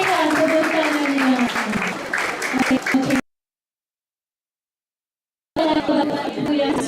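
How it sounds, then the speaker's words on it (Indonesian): Audience applause at an e-sports athlete selection event in Palembang, dense clapping and crowd noise with a voice speaking over it, cut by a stretch of silence before resuming. "Berikan tepuk tangannya."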